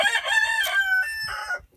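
A rooster crows close by with a long, clear cock-a-doodle-doo, and backyard chickens cluck around it in one short, loud burst with no talk.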